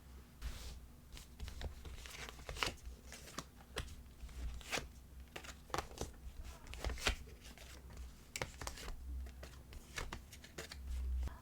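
Tarot cards being shuffled and handled, giving a steady run of close, soft papery riffles and snaps at an even rhythm over a low constant hum, with no talking.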